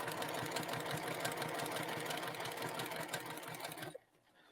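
A sewing machine stitches along the edge of a quilt toward a corner, a loud, even motor hum with a rapid needle chatter for about four seconds, then stopping.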